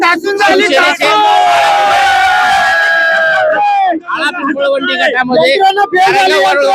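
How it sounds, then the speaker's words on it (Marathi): A crowd celebrating an election win for the bow-and-arrow symbol at a Zilla Parishad seat, with loud sustained cheering, whoops and chanting voices close by and continuous over several seconds. "जल्लोष मोठ्या प्रमाणामध्ये या ठिकाणी आपल्याला पाहायला मिळतोय"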